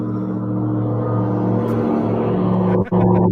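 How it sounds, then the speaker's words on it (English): Steady low rumble of heavy traffic, with a garbage truck driving along a freeway, a continuous loud engine drone with a brief dip and rattle near the end. "I think it was a garbage truck going down the freeway"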